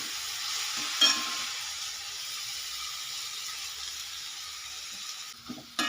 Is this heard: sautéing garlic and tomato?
yes